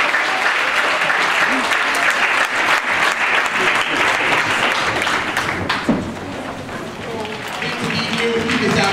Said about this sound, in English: let's just give them a round of applause as they come up